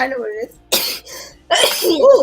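A single sharp sneeze breaks out at home during a casual game night. Talk comes just before it, and a short exclamation follows.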